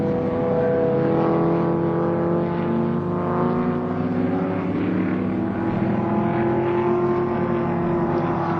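Touring cars race at the Warwick Farm circuit in a 1973 event, their engines droning loudly and steadily with shifting tones as they power around on the final lap.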